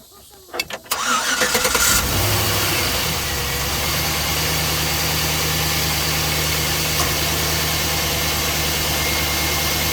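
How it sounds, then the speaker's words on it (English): A Chevrolet Silverado pickup engine cranks briefly after a battery replacement, catches and settles into a steady, loud idle that runs to the end. "I'm going to go see if it'll crank"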